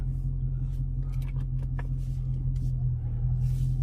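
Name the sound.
Dodge Challenger Hellcat car engine driving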